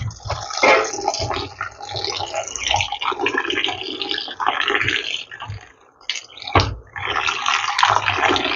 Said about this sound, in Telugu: ఇక్కడ దాకా నీళ్ళు పెట్టాలి